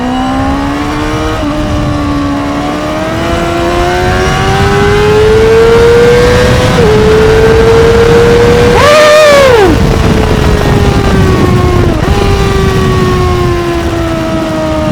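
A Honda CBR600RR sport motorcycle at night pulls hard through the gears, its engine whine climbing steadily in pitch with brief drops at each shift, loud and close throughout.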